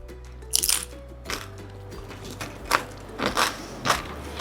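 Crunchy chips topped with cheese and jalapeno being bitten and chewed close up, several loud crisp crunches at irregular intervals with quieter chewing between.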